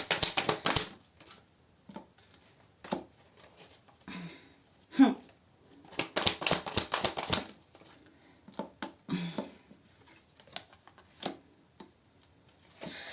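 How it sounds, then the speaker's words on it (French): Playing cards are shuffled quickly by hand, giving short bursts of crisp riffling and flicking clatter in several separate runs, close and fairly soft, with pauses between. "je vais battre les cartes vite fait"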